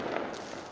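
New Year fireworks go off at a distance as a brief, dull rumble of bursts beneath steady background noise, seen from a high vantage point.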